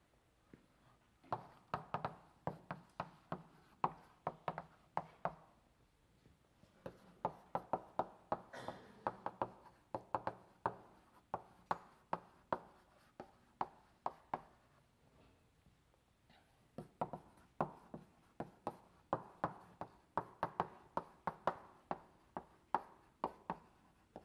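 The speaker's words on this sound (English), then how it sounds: "I'm going to draw it as a linked list." Chalk drawing and writing on a lecture-hall board, heard as sharp repeated taps and short scratchy strokes in uneven bursts with brief pauses, fairly close and with no talk.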